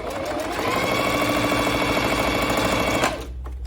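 Bernette B05 Academy sewing machine stitching through folded denim, a loud steady needle chatter running continuously for about three seconds, then stopping abruptly, with no talk over it.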